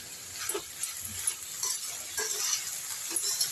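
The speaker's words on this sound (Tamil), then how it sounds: "இதை நல்லா வதக்குங்க." Lotus stem stir-fried in a pan: scraping stirs and light clinks of a utensil over a low, steady sizzle, repeating irregularly and heard up close without talk.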